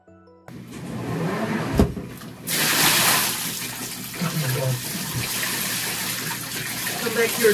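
Tap water runs into a sink or tub while a plush toy is rinsed by hand, a steady gushing stream with splashing shifts and a brief clunk, close and fairly loud.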